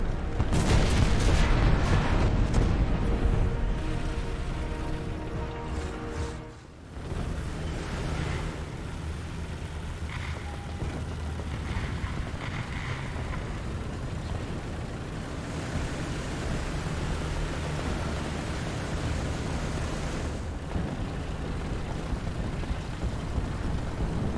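Explosions and artillery fire in the tank video game War Thunder, a loud heavy boom at the start that rolls into sustained rumbling and crackling noise, with a brief dip midway, no talking.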